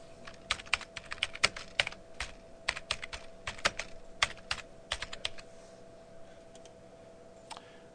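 Typing on a computer keyboard, a run of quick, crisp key clicks in irregular bursts that thin out toward the end, close and fairly quiet, with no talking.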